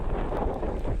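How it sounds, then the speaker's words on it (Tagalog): Strong wind at a seashore in bad weather, with fishing boats beached on the sand and big waves: a continuous low roaring gust buffeting the microphone, close and steady for about a second. "Malakas ang hangin."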